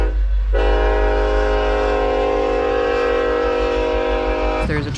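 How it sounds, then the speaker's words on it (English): A train horn blares loud and steady for several seconds as a train passes through Hanoi's Train Street, a narrow residential neighborhood lane, over a heavy low rumble of the rolling train. "Now the train coming."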